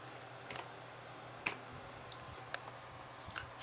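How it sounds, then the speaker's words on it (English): Slow one-finger typing on a computer keyboard, a few sparse, faint clicks spaced irregularly over a quiet room hum. "typing because I type very slow and one finger. It's a click, click, click, click all the way."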